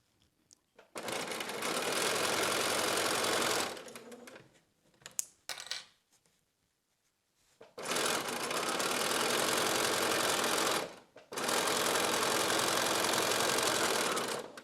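A sewing machine runs fast, stitching quilt binding at a 3-point stitch length, in three sustained whirring bursts separated by short pauses with small handling clicks.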